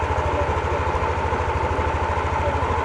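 A Yamaha NMAX V3 scooter idles after a CVT cleaning and drive belt check, its engine giving off a steady, even low putter that stays loud and close throughout with no talking.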